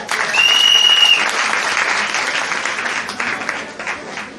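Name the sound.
audience applause at a donation ceremony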